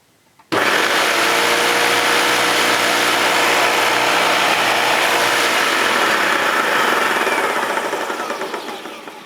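A Hoover Turbopower 2 U2462 upright vacuum cleaner switches on with a sudden loud motor roar and spinning agitator, holding a steady drone before easing slightly toward the end.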